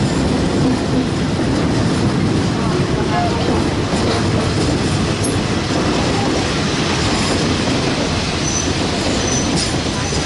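A train runs along the Death Railway toward the bridge over the River Kwai in Thailand, with steady loud rumbling and clattering wheels on the rails throughout, plus occasional metallic squeals.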